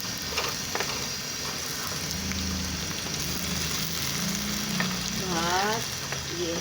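Potatoes fry in a pan for an aloo karela dish, giving a continuous, fairly quiet sizzling hiss with faint crackles and some low background hum, heard close up with no speech.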